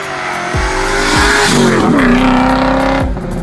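A Rover SD1 Vitesse V8 saloon racing at full throttle, engine roaring loud and close with rising and falling revs through gear changes and some tire squeal, no voices.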